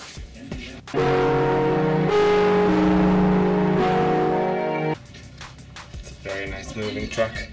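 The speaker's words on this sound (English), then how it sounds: "Moving truck." A moving truck's engine drones in a loud, steady revving tone for about four seconds, framed by rustling handling noise and indistinct voices nearby.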